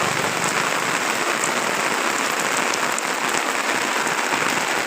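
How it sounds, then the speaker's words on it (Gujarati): Heavy rain pours down over villages of Mahuva taluka, Gujarat, a loud, dense, unbroken roar of drops hitting surfaces with no voices. "સતત 1 કલાકથી જોરદાર વરસી રહ્યો છે વરસાદ।"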